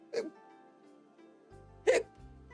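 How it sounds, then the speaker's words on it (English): Two sharp hiccups from a person, spaced about two seconds apart and loud and close, with faint background music and no speech between them. "I hiccuped, I'm sorry."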